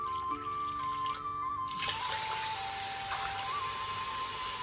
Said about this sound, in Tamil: 2 கப் வாட்டர் சேர்த்துக்கலாம்.